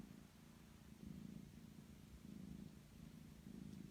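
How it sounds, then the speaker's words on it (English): A cat purrs close and quiet, a soft low rumble rising and falling in regular breath cycles about once a second. "The purring cat is definitely Joseph Robert Hawley II"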